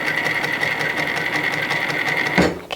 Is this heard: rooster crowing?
no